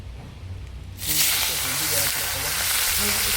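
Prawns frying in a pan with no turmeric: a sudden loud, close sizzle bursts in about a second in and then holds as a steady, dense crackling hiss, with faint talking underneath.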